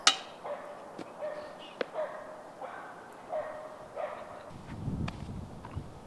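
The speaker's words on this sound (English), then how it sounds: "Getting razzed by the dogs in the back maybe a little bit." Dogs in a dog park beside a disc golf course bark in several sharp, spaced yelps at middle distance, with faint outdoor ambience between them.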